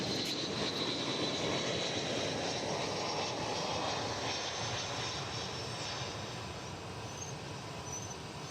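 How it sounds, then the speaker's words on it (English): An Airbus A319 passenger jet flies near DFW Airport with a continuous broad engine roar that holds steady and then fades slightly as it passes by. "An Airbus A319."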